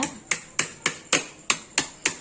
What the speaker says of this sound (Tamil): இப்போ இதை நல்லா ஒரு சுத்தியல் மாதிரி ஏதோ ஒரு கட்டையோ ஏதோ ஒன்று வச்சு இப்படி நல்லா தட்டிடுங்க